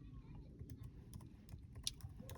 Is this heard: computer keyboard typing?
yes